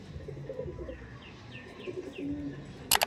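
Domestic pigeons cooing in a loft, a fancy breeding pair, several soft repeated coos through the stretch over low background noise, with a brief sharp rattle near the end.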